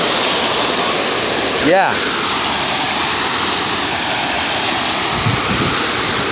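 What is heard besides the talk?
waterfall at the Bellagio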